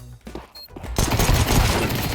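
Counter-Strike 2 gameplay gunfire: a quiet stretch of faint in-game sounds gives way to a dense, loud burst of rapid shots that keeps going to the end.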